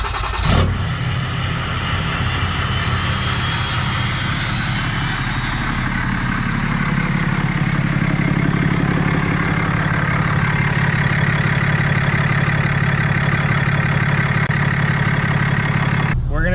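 A turbocharged vehicle engine fitted with a Banks Monster-Ram intake starts with a sharp catch, then settles into a loud, steady, throaty idle heard up close, running on alone before cutting off at the end.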